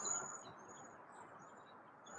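Birds give faint, high chirps and tweets scattered across a steady outdoor hum at a distance, with no voices.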